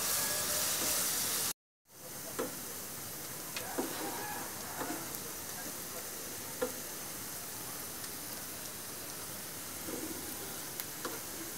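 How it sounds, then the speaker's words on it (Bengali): Onions sizzle steadily in a hot pan while being browned to a reddish colour, a continuous frying hiss with faint scattered ticks of stirring after a brief silent break near the start. "পেঁয়াজটা আমি একটু লাল লাল করে ভেজে নেব"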